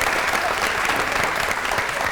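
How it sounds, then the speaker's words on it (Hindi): Steady, dense studio audience applause on a Pakistani comedy talk show, loud and continuous for the full stretch with no pauses. "बहुत सी ताली होनी चाहिए हमारे तालियां तो होनी चाहिए।"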